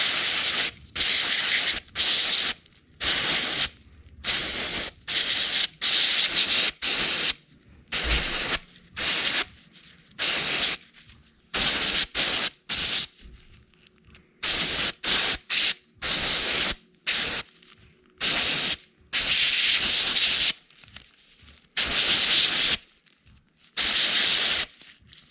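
Repeated bursts of aerosol cleaner sprayed onto 2020 Electric Motion trials motorbike parts, each lasting a second or two with short pauses between, loud and close, going on steadily.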